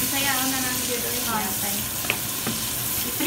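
Republic brand hotdogs frying in a pan in the kitchen of a Filipino bistro in Prague, a steady close sizzle with faint voices and light clatter over it.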